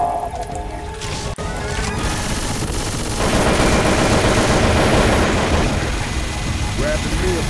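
Dense, sustained gunfire from Left 4 Dead 2 roars at close range, continuous automatic bursts with a sharp crack early on, and voices shout over the shooting.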